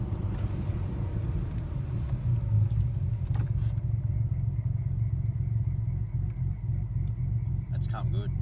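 A Nissan GTR idles through a super quiet exhaust, a steady low rumble close by, with a brief clunk midway and people talking over it.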